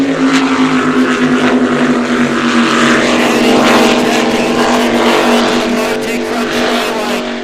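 Australian Super Boat Series racing boats roar past at Geelong during Round 3, a loud continuous engine drone with steady tonal whine that swells and fades slightly as they pass.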